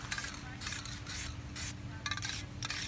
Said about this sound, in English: if you want to do a little spray paint at home, paint something, it's not very difficult